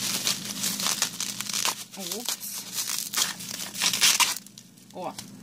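A plastic bag crinkles and rustles while a manicure parcel from AliExpress is unpacked, loud close-up crackling bursts coming in waves, with a voice briefly heard.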